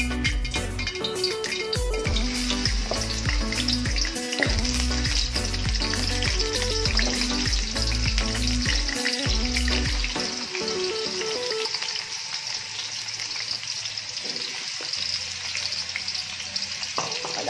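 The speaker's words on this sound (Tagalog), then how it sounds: "So first na gagawin natin ay i-fry muna natin yung ating patatas." Potatoes frying in hot cooking oil give a loud, steady sizzle throughout, with stirring clatter and low rumble during the first ten seconds that then thins out to the sizzle alone.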